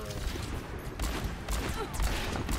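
Bursts of gunfire in an Overwatch match, several sharp volleys crackling in quick succession amid busy game noise, loud and close.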